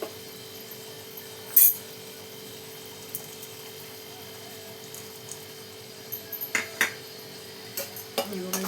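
A spoon stirs methi bhaji (fenugreek leaves) mixed with peanut powder in a pan, making soft intermittent scrapes and a few light clinks over a steady low hum.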